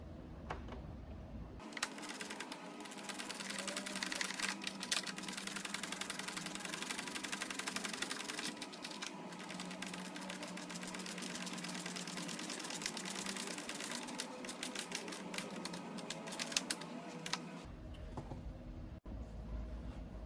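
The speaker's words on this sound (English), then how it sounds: "I'm going to start ratcheting this" A hand ratchet tightens the mount of a Motorrad Audio ZZ-2 unit on a motorcycle, making a faint, fast, continuous run of rapid clicks for most of the stretch, with no voices.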